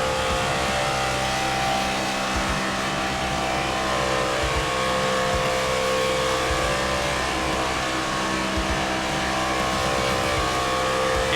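A race car laps Talladega, heard on board: a loud, unbroken engine roar at high revs, steady and close throughout, with no voices.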